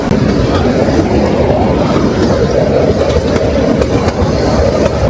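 Kalka-Shimla narrow gauge toy train running steadily, a continuous loud rumble of wheels and carriages with faint rhythmic clatter throughout, heard from on board.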